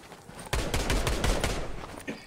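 Video game gunfire, a sudden burst of rapid automatic shots in a dense rattling volley that tapers off after about a second and a half.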